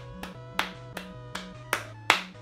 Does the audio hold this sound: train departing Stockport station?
no